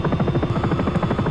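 Sikorsky S-76 helicopter in flight in X-Plane 11, a steady loud rotor thrum with fast rhythmic blade pulsing over a constant engine whine, heard alone.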